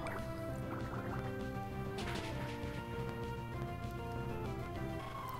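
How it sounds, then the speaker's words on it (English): A Water Gun attack lands in the Pokémon Ruby video game, a burst of splashing, gurgling liquid effects played over a steady, busy game music loop, with a sharp hit partway through. "Water gun."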